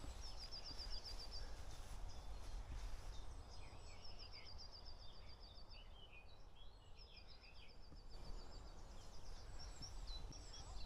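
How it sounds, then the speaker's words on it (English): Birdsong fills an English churchyard lined with chest tombs, with repeated high chirps and trills from several birds at mid distance over a steady low roar of distant motorway traffic. "Just can hear the bird song everywhere."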